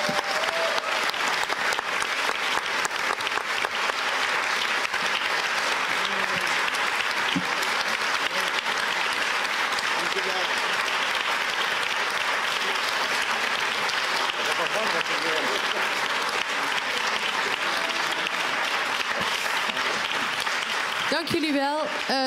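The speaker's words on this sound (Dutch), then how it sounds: "APPLAUS" Sustained applause from a theatre audience at a Dutch debate event, steady and dense for over twenty seconds with no talk over it.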